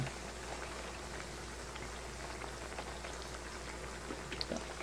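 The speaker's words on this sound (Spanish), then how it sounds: "Está hirviendo ya en el aceite." Enchiladas fry in hot oil, giving a steady, dense sizzle and bubbling that runs unbroken throughout, close and even, with small pops now and then.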